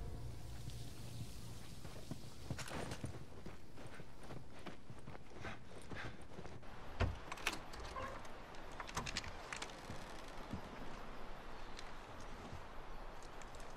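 Horse hooves clip-clop at a slow walking pace in The Last of Us Remastered on PS4. The irregular clops sound faint and somewhat distant, with no other sounds nearby.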